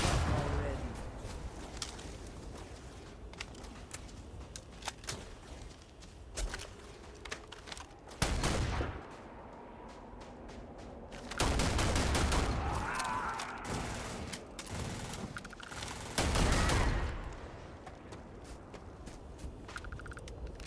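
Gunfire in the space RPG Starfield: a few loud, sharp broadband bursts stand out among scattered clicks and softer noise, with a person talking intermittently underneath.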